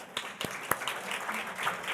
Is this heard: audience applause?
yes